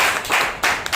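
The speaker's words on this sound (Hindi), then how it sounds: "काफी दिनों के बाद जोरदार ताली बजाइए" A church congregation claps at a Wednesday service, with a few loud, close, uneven bursts of clapping within about a second.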